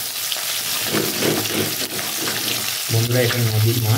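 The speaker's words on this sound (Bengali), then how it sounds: "মাছটা দু সাইড এরকম কড়া করে ভেজে নিলাম" Satin fish fry crisp in hot oil with a steady sizzle and crackle. Someone talks over the frying, and the sizzle swells louder near the end.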